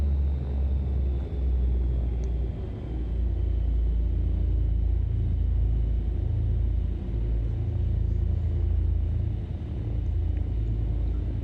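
Twin piston engines of a Beechcraft Baron 58 in the X-Plane 12 flight simulator, pushed above 1200 rpm, give a loud, steady, low droning rumble that runs unbroken, with no talking.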